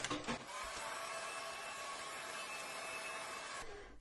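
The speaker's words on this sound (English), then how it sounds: "we'll hit it with a dryer." A hair dryer drying a watercolor painting, a steady, loud whirring blower running nearly continuously for several seconds, then cutting off at the end.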